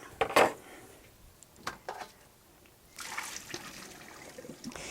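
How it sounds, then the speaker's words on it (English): Cooked packet peas are drained from a pot, giving soft splashes and pouring water with a sharp metallic clank at the start, scattered drips and knocks, then a louder gush of running liquid near the end. "The peas I'm going to drain."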